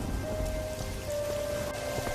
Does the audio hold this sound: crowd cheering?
no